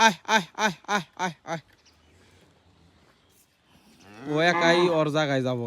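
A cow lets out six short, rhythmic grunting moos, then falls quiet before a long, loud, drawn-out moo close by.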